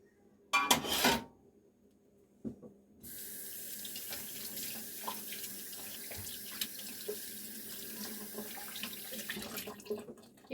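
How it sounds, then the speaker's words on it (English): Water runs steadily from a kitchen faucet into a sink while an onion is washed, a continuous hiss after a short burst of splashing and brief clatter at the start, fairly close. "Let me go over here and wash this onion."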